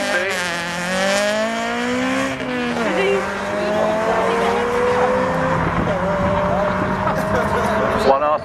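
A Honda Civic and an Audi TT drag race at a North Weald test and tune day: loud, continuous engine roar climbing in pitch through several gear changes for the whole run.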